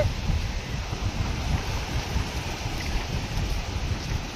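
Strong wind blows at a fishing beach, producing a continuous low roaring buffet across the microphone with no voices.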